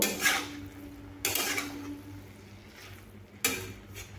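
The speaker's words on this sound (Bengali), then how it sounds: "এর সঙ্গে বেশ ভালোভাবে মিশিয়ে এভাবে মিশিয়ে নেব" Papaya dish with fried fish heads being stirred in a pan, giving three sharp scraping clanks of a utensil against the metal at irregular intervals, fairly quiet and close with no talking.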